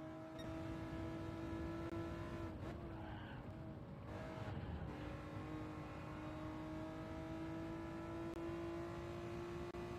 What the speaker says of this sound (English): it's just a straight drag race to the end against a very slow first place car